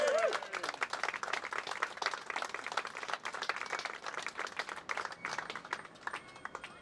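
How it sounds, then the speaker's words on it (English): A large audience applauds steadily, a dense patter of many hands clapping at moderate distance, with a faint voice briefly at the start. "I'd like to give them a round of applause if you don't mind"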